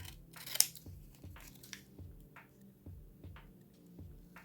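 Scissors cut apart a paper seed packet in a quiet room, with one sharp snip near the start followed by a few soft, rhythmic cutting and rustling sounds, close and fairly faint.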